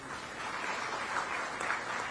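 An audience at a government event for the chief minister applauds, a steady wash of many hands clapping at moderate distance, sustained evenly for a couple of seconds.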